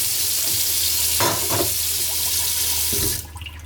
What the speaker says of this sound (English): You can pour some water in and it comes through the little hole in the top